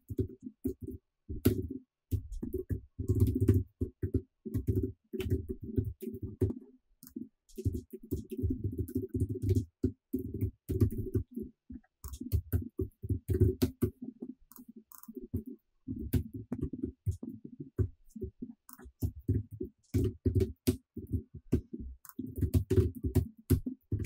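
Code being typed on a computer keyboard, dense bursts of rapid close key clicks broken by short pauses, fairly loud and alone throughout.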